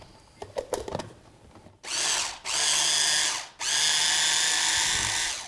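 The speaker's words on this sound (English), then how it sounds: "I put them in my mini food processor here" A mini food processor grinds raw shrimp with fish sauce in three loud whirring bursts of rising length, after a few soft clicks and knocks.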